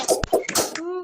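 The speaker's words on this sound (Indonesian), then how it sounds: "Ayo, tangannya siap untuk bertepuk." A class claps hands in a few sharp, quick bursts mixed in with voices, ending on a short sustained vocal tone.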